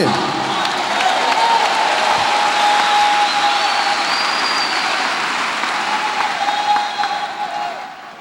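Applause from a church audience at a Portuguese-language youth Bible study, a dense, steady clatter of clapping that fills the room for several seconds before thinning out at the end.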